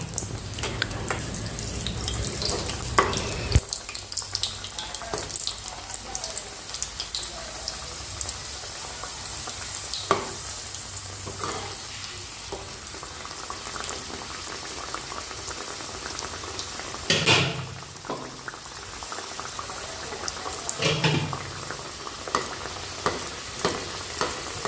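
Snacks deep-frying in hot oil in a karahi give a steady, dense sizzle and bubbling that fills the whole stretch, with a few sharp clinks and stirring knocks rising briefly above the frying.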